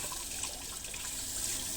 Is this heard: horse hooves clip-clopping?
no